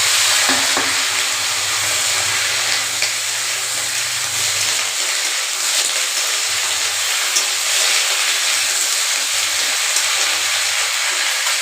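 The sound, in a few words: potatoes and green chili frying and stirred in pan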